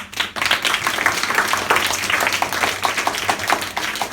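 A group of students claps for CV Raman at a National Science Day gathering at a free education centre, brisk, loud, fairly rhythmic clapping close by throughout.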